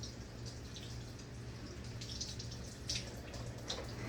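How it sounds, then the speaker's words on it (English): Tap water runs faintly as seasoning is washed off hands, a soft, steady trickle with small splashes and drips, quiet and close. "Wash the seasoning off my hand."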